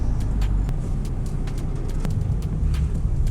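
A heavy-type pyrotechnic vehicle built to carry explosive ordnance drives along with a steady, loud low engine rumble heard from inside, plus faint clicks and road noise throughout.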